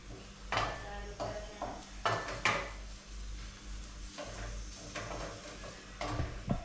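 Ground filling being stirred in a hot kadhai with oil, close scraping and clinking of a spoon against the metal pan in irregular strokes.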